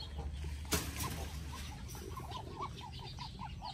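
Chickens cluck softly on a small farm near a piglet pen, giving a run of short, repeated calls over low background rumble. One sharp knock comes early on.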